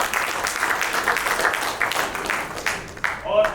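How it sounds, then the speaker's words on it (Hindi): Audience applause at a Bhojpuri film stars' cricket league event, dense clapping from a crowd running steadily under an announcer's voice and crowd noise. "प्लीज जोरदार तालियां।"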